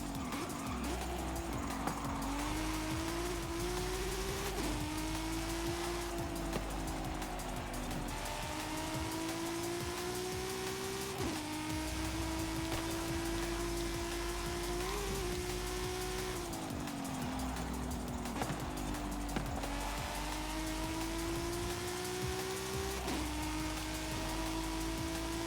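A 2020 Toyota GR Supra races in Forza Horizon 5, its engine droning steadily loud and rising through gears with brief shifts, tire squeal and skidding mixed in, with no talking over it.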